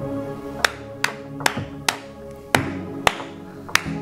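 Seven sharp hand claps at uneven intervals, heard over steady music playing through custom in-ear monitors.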